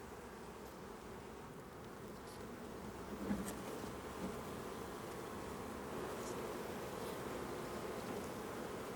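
Honeybees hum steadily around a beekeeper's hives in Le Haillan, a dense continuous buzz of many insects at close range with no talking.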